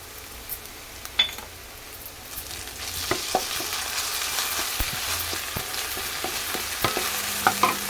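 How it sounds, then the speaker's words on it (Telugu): Ginger garlic paste sizzles in hot oil in a pan of ridge gourd curry, a steady frying hiss punctuated by scattered scrapes and clinks of a spoon stirring against the pan. "ఇప్పుడు మనం అల్లం వెల్లుల్లి పేస్ట్ వేసుకోవాలి"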